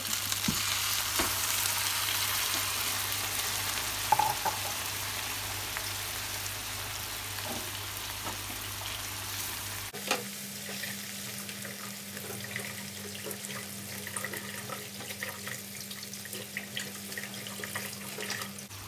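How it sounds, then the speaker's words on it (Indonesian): Hot water poured into a pan of sizzling chicken, giving a steady, close frying hiss with watery splashing that shifts partway through into a bubbling simmer; no voices. "Tambahkan air panas sedikit."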